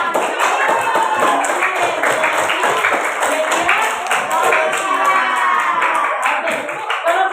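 A fifth-grade class at an elementary school applauding, rapid dense clapping from many hands sustained for several seconds, close and loud, with children's voices mixed in.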